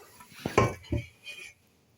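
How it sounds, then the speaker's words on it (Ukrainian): An aluminium pot being handled, a few hollow metallic knocks and clanks in quick succession, close and fairly loud, followed by a softer scrape before quiet. "У нас є така каструля"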